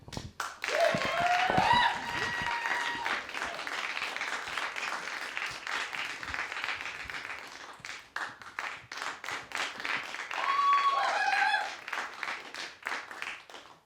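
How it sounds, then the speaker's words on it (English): Classmates in a school classroom clap steadily for a presentation on capes, a dense patter of many hands running the whole time with a few voices and brief high tones rising over it. "Now everyone get your clappers clapping"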